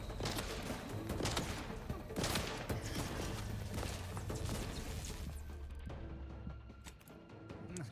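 Rapid bursts of gunfire and mechanical clatter from The Outer Worlds 2 video game, loud and busy through the first several seconds, then thinning out toward the end.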